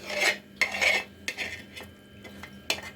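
Chicken curry ladled out of a pot, with repeated metal scrapes and clinks of a spoon against the pot in an irregular rhythm, close by and moderately loud.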